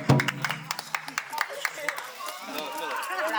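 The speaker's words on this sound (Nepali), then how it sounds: "ल ताली मार यो भनेको एकदम सही हो" Scattered hand claps ring out at a Nepali wedding in Dharan, a handful of sharp, uneven slaps mixed with lively talk and chatter from the people gathered nearby.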